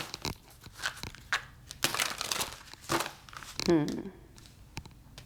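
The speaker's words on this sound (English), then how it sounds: "Card shuffling all weird." Tarot cards are shuffled by hand in quick, irregular bursts of crisp riffling and slapping, close to the microphone, with a person speaking in between.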